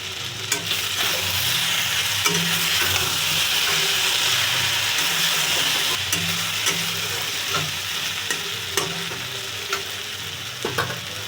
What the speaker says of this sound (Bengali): ঢাকনাটা খুলে আবার একটু নেড়ে করে দেবো